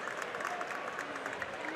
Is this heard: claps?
yes